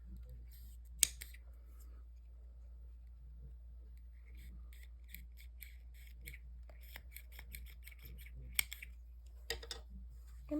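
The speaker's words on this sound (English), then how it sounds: "and cut the yarn." Quiet snips of scissors cutting yarn while crocheting a jellyfish car accessory, a few sharp faint clicks scattered over a low steady hum, with soft handling noises in between.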